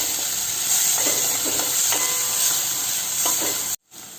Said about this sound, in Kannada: ಒಂದು ಟೊಮೆಟೊವನ್ನು ಹಾಕ್ಕೊಂಡು ಸ್ವಲ್ಪ ಫ್ರೈ ಮಾಡಿಕೊಂಡ್ರೆ ಸಾಕು.